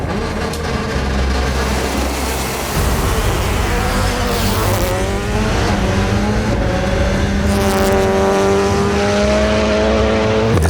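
A rally car launching from the start line of a hill climb: close, loud engine roar with rising revs through gear changes and brief tire squeal, continuous throughout.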